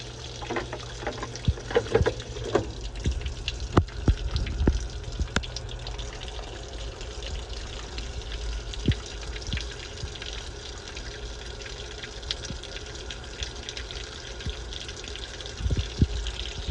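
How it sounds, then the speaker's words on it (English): Water running and splashing steadily into a washing machine drum on a towels and sheets cycle, with occasional clunks and drips over a continuous watery rush. "filling isn't about aesthetics, it's about getting water in the machine"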